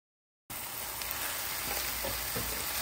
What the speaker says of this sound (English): Let's add our plant-based protein.